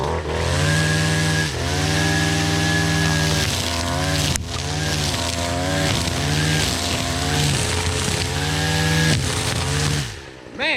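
A small engine, cranked up for tree removal work, runs loudly with a buzzing harmonic whine that revs up and down in repeated surges before cutting out near the end.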